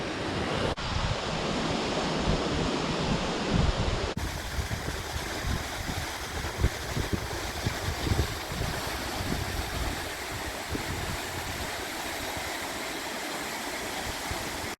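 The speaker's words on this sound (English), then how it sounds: "I made it to the viewpoint of the Karuru waterfall." Karuru waterfall in Aberdare National Park, Kenya, heard from a viewpoint as a steady, broad roar of falling water with some wind buffeting, continuous and without talk.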